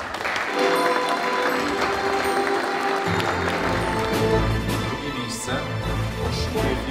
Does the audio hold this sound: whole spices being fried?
no